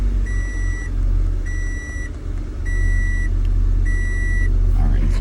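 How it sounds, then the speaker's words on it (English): A car starting up and settling into idle, a low steady engine rumble with a repeating chime beeping over it at regular intervals, close by. "And let's start the vehicle,"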